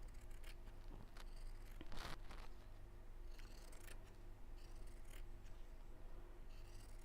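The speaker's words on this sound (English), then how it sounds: "I'm just going to cut that 1/2 inch bigger" Scissors snip through fabric being trimmed to size at a sewing table, a few crisp cutting strokes over steady low background hum, close to the microphone with no talking.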